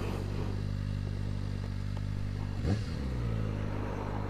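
A 2024 Kawasaki Ninja ZX-4RR sport motorcycle engine idles with a deep, steady throb, then briefly blips and settles back to its low rumble.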